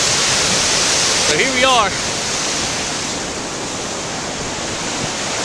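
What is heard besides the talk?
class 5 whitewater rapids in Muddy Creek Gorge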